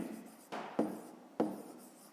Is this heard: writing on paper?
yes